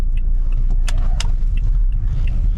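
A car rolls slowly into a car wash in Japan early on a Sunday morning, with a steady low engine rumble and a few faint light clinks, and no talk.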